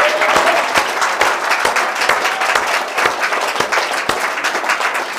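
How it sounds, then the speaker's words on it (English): Loud, sustained applause from a large audience, dense clapping with a few sharper claps standing out near the front. "as long as you're clapping, let's clap for our incredible host, Dina and Nick, what they've done for us."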